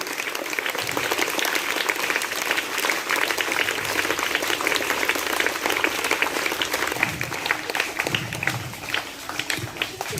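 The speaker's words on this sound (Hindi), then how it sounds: "एक जोरदार तालियों से उनका भी अभिवादन किया जाए" An audience at a school ceremony claps loudly and steadily for the winning participants, a dense, continuous wash of many hands that holds its level throughout.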